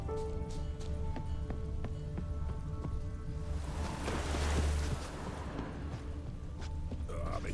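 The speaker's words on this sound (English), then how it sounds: "Rain again. Damn mages." Steady rain in the video game The Witcher 3 along a shoreline, a dense hiss that swells louder midway, with game music and ambience beneath.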